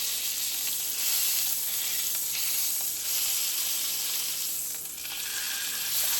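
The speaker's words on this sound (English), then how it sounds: "Now I like to take the edges and just sear them a little bit. Sear that edge" Ribeye steak edges searing in a hot pan, a dense, loud, continuous sizzle that swells and eases slightly, with no talking.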